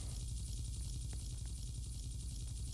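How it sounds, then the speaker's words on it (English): Helicopter in the Roblox video game, a steady rotor and engine drone with a low, pulsing throb that holds constant and fairly loud throughout, with no talk over it. "Can I fly the helicopter?"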